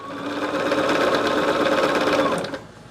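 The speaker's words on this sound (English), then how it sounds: "I did kind of take a little of that slack up when I just sewed that third piece on" Sewing machine stitching quilt block pieces together, a steady close rapid mechanical chatter running for over two seconds before stopping.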